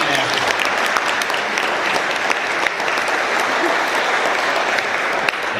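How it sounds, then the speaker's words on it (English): A room of attendees at a Rotary Club weekly meeting gives a round of applause, dense and fairly loud clapping that continues evenly throughout. "please give them a round of applause for watching after."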